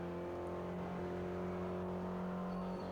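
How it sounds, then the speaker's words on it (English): A stock Mitsubishi Lancer engine in Forza Horizon holds a steady, smooth drone at a fairly quiet level, a continuous hum with no clear change in pitch. "See, even this Lancer, it's stock standard, obviously, but it does sound quite good."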